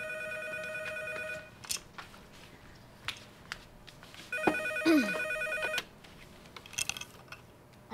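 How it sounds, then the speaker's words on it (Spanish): A telephone rings in a domestic setting, several short electronic trilling bursts spread across the clip, the strongest near the middle, with faint room noise and scattered small knocks between rings. "O también es pecado que atienda el teléfono."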